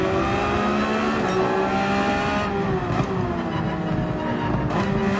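Porsche race car wearing number 96 at Brands Hatch in Gran Turismo 7, its engine droning steadily at high revs throughout, pitch shifting slightly through gear changes with no voices over it.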